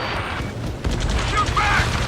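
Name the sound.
gunfire in Ace Combat 7 video game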